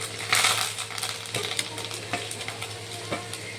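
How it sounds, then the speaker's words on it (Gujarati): Cloves, curry leaves and asafoetida crackle and sizzle in hot oil for kadhi tempering, with a steady hiss and a few light scraping stirs against the pan. "તો હવે આપણે કઢીનો વઘાર કરીશું"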